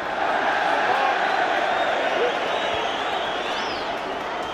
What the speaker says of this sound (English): Ironic applause as Hearts have given a free kick